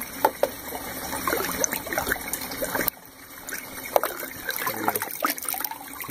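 Water pours from a downspout into an aquaponic tank, a soft close trickle and splash with occasional sharp drips, fairly quiet and continuous without speech.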